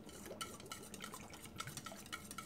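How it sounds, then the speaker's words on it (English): A whisk stirs cedar and saffron essential oils into a soap batter, giving a soft, steady swishing and light scraping against the bowl, quiet and continuous with no voices. "we're going to now whisk in our Cedar and Saffron essential oils"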